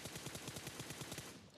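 A rapid string of sharp cracks bursts off in quick succession, loud and close, like a chain of firecrackers popping nonstop before tapering off.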